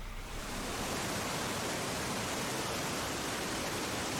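Falling water in a deep glacial cleft lined with sheer cliffs in Switzerland roars as a steady, dense broadband rush, loud and unbroken throughout with no voices.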